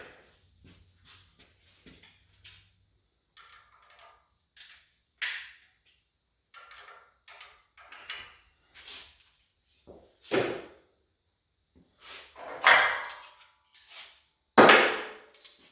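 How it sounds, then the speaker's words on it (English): Tightening shackle nuts on the front shocks of a Ford Model A roadster: scattered metallic clicks, taps and ratcheting clanks in irregular bursts, close by, separated by quiet gaps. "And I want to tighten up these shackle bolts."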